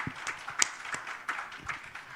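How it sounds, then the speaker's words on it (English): A small conference audience gives a light, sparse round of applause for panel guests at a radio industry event, the claps scattered and fairly faint. "Maybe a little round of applause for our guests."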